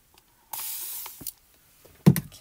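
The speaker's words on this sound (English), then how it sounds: "we're going to spray this again" A handheld spray bottle mists a paper craft card for embossing: one long, close hiss, a brief puff, then a sharper final spritz.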